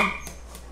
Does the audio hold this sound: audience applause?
no